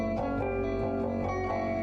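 A low bass guitar riff circles on a repeated pedal tone while the upper notes shift, played steadily and close for a short stretch with no talk.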